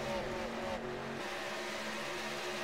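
Race cars accelerating in an iRacing stock car event at Chicagoland, a steady loud engine drone with rising pitch sweeps as cars run nose to tail into a turn.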